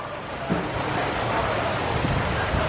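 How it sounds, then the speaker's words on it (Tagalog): Strong wind gusts in steady rain on a dark day, a continuous broad roar that stays loud and close throughout, with no voices. "Lakas ng hangin"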